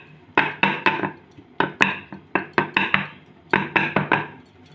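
A container of dhokla batter being shaken by hand gives sharp hollow clattering knocks in quick groups of two to four, close and fairly loud, with brief pauses between groups.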